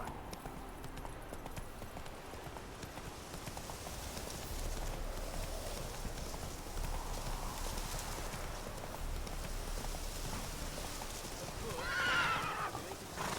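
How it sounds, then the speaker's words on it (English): A horse in The Witcher 3: Wild Hunt gallops with a steady, rapid clip-clop of hooves under ambient game sound, and a short whinny rises near the end. "Whoa there, Roach. Come on, Roach"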